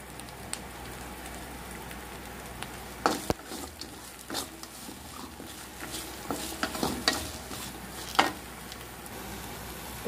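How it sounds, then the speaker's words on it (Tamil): Coriander and mint sautéing in a pan, a soft steady sizzle with scattered crackles and a few louder scraping stirs, close and without talk. "இப்போ இது நல்லா வதங்கிடுச்சு"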